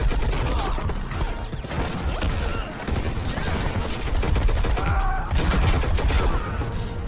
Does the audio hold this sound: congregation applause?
no